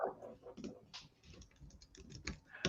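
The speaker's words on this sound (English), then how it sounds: "I'm typing in the private chat just in case." Computer keyboard typing in a rapid, uneven run of close key clicks, with a few louder strikes and a soft voice faintly underneath.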